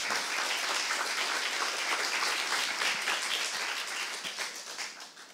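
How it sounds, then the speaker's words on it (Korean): A church congregation at a Saturday worship service bursts into full applause, a thick, even roar of clapping that thins and tapers off near the end. "박수 한번 하세요"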